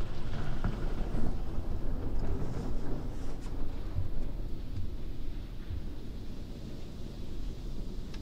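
A PDQ LaserWash 360+ automatic car wash sprays wax coating onto a car, heard from inside as a steady, heavy hiss and drumming of water spray on the body, with no voices.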